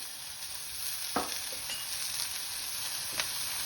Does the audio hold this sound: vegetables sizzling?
yes